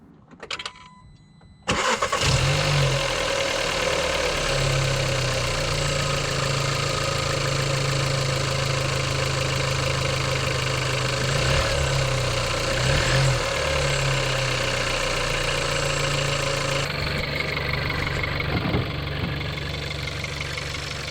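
An Audi A3 8V 1.4 turbo engine, fitted with a replacement turbo cartridge, cranks and fires after a short quiet moment, then settles into a steady, loud idle with a low hum that continues to the end.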